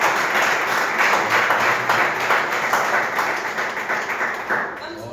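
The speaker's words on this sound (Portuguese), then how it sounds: "E as palmas bem alegres para o Senhor Jesus." A church congregation claps together in steady, lively applause during a worship service, a dense and continuous patter that holds for the whole stretch, with faint voices mixed in.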